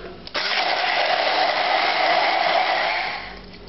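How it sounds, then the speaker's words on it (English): A stick blender pureeing cooked vegetables with butter and chicken stock for cheddar ale soup, switching on abruptly into a loud, steady motor whir that holds for about three seconds before winding down. "And these are going to get pureed."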